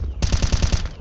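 Rapid automatic gunfire from Counter-Strike 2, a burst of about eight close, sharp shots at an even rhythm lasting under a second.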